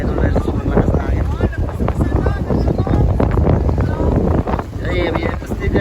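Strong coastal wind buffets the microphone in a steady, loud roar, with a Filipino voice speaking over it now and then.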